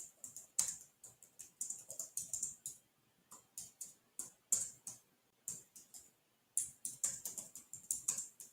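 Typing on a computer keyboard comes through in quick, close bursts of crisp keystrokes, separated by short pauses, with no talking.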